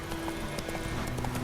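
Hooves of a galloping horse in The Witcher 3 beat in a quick, steady clip-clop over a constant background bed, close and prominent.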